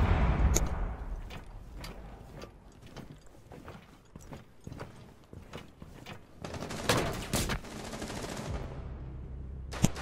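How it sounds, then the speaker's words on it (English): Hipfire pistol shots in Rainbow Six Siege ring out as a string of sharp, separate cracks, then bunch into a denser flurry of gunfire and mechanical clatter, moderately loud with no talk. "Dude's clean with the hipfire pistol shots."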